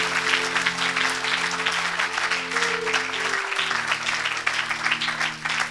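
A church congregation claps in praise of Jesus, a dense, sustained wash of hands under a held organ or keyboard chord that shifts pitch midway, the applause steady throughout.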